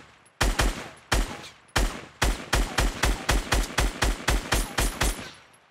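Gunfire in Fortnite rings out loud and close: a few spaced shots, then a fast, even string of about a dozen sharp cracks with no voices.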